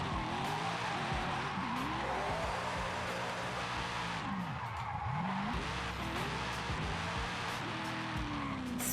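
Car drifting in Forza Horizon 5 with a V8-swapped 350Z drift build, clutch-kicking through the gears: continuous loud engine revving with sweeping pitch changes and steady tire squeal and skidding throughout.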